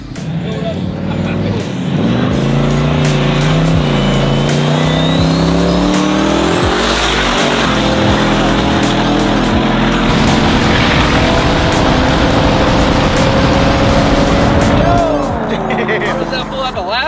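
A loud turbo truck engine races and roars continuously, its pitch climbing and holding under load, with tire noise and talking mixed in.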